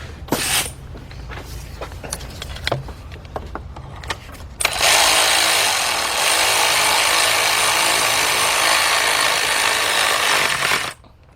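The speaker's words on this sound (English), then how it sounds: "I'm gonna use a 10mm deep, and I'm gonna get my cordless ratchet." Cordless ratchet driving a 10mm deep socket onto a bolt during Ford Fiesta engine work, a steady loud buzzing whir for about six seconds after some clinking and handling of tools.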